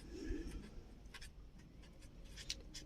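A pen scratches across paper in short separate strokes, faint and close, over a steady low background hum.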